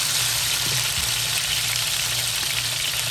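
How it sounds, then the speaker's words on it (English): Constant hissing sizzle of red potatoes frying in hot olive oil, steady and close, with a faint clink or two underneath. "we're gonna finish them off in olive oil"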